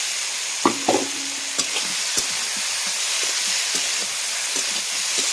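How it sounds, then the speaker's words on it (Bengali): Fried vegetables drop into spiced masala in a hot pan, setting off a steady loud sizzle with a few brief clunks and scrapes near the start. "হালকা জল দিয়ে কষিয়ে নিয়েছি মশলাটা এবারে ভাজা সবজিগুলো দিয়ে দেবো"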